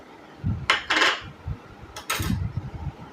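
Bowl clatter as a paneer mixture with cumin, coriander and chilli powder is beaten: a few quick, close scraping and clinking bursts, with no voices.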